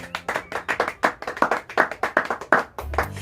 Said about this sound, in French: Est-ce qu'on peut acclamer pour Dieu?